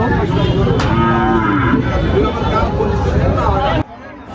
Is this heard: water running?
no